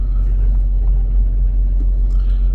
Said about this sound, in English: you can see that truck that's going by over there